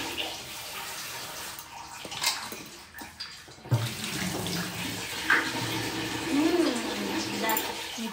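Steady running water from a tap, poured for a pet parrot's bath, a continuous splashing hiss close by, with a person talking over it and brief bird chirps.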